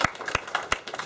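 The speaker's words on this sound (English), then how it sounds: "big round of applause to Funding Circle for giving us brilliant venue tonight" Audience applause at a London DevOps meetup at the Funding Circle venue, heard as a brief burst of scattered, close hand claps.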